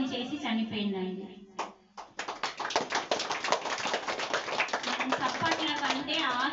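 A live audience breaks into dense, sustained applause after a speaker's talk, the clapping rising suddenly and continuing steadily beneath a voice as he carries on speaking.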